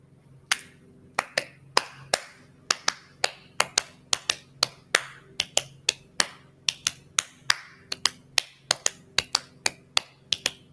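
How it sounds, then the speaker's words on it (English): A group of people clap their hands together in loose, uneven bursts, a steady run of sharp, close claps over about ten seconds with no talking. "Guys, clap with me."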